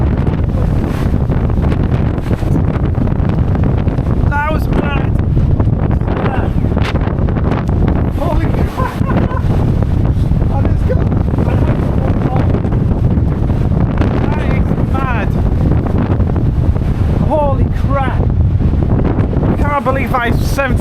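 Strong storm wind gusts from Storm Eowyn, reaching about 80 mph, roar continuously and loudly into the microphone at close range with heavy buffeting, while a voice speaks intermittently over the noise.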